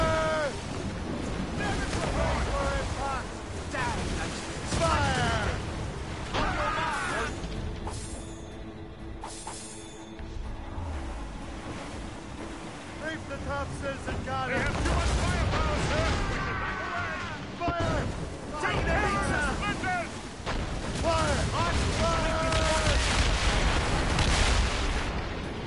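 Naval cannons boom repeatedly during a ship battle in Assassin's Creed Rogue Remastered, with loud blasts and rumbling volleys scattered throughout amid shouted commands and ongoing voices.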